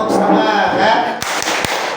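Children in a classroom perform a rhythmic 'tepuk semangat' clapping chant, their voices loud and close with a few sharp hand claps punctuating the chanting.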